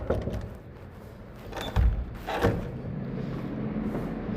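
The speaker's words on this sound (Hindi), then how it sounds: "दरवाज़ा नॉक करते हैं" Two dull, brief knocks on a house door land about a second apart, with faint room noise around them.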